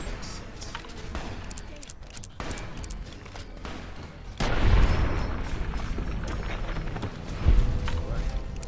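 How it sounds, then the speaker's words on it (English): Explosions in Fallout New Vegas, a dull rumbling bang midway that sets off a lingering low roar, with a second deep boom a few seconds later over scattered game noise. "Goddamn fucking explosions."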